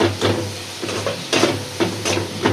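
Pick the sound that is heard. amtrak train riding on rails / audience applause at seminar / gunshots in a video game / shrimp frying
shrimp frying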